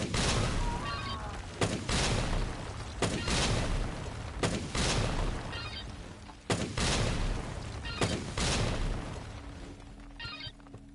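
Gunfire in the video game Dead Rising Deluxe Remaster: loud, dense bursts of rapid shots come in several strings separated by brief pauses, with echoing booms behind them.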